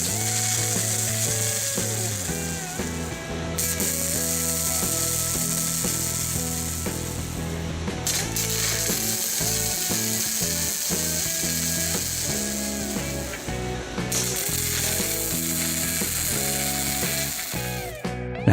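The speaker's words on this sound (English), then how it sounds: "weld where the support plate meets the bushings" A Harbor Freight Titanium Flux 125 flux-core welder lays a bead where a steel support plate meets the bushings: a steady, close frying crackle that runs without a break, with no talking.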